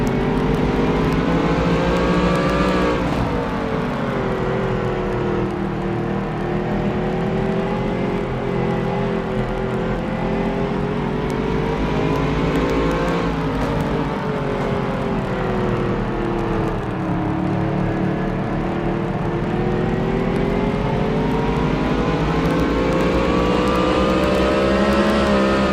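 A racing truck thunders around the track at Circuit of The Americas, its loud engine droning steadily, rising and falling as it accelerates, brakes hard and downshifts aggressively into a turn, with no talk over it.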